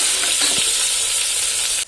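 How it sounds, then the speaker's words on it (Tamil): Onions sautéing in hot oil with popped mustard seeds and cumin in a pressure cooker, a continuous bright sizzle with a faint stir, steady and close, ending with a slight drop in level. "இப்போ வெங்காயமும் சேர்த்து நல்லா வதக்கிக்கலாம்."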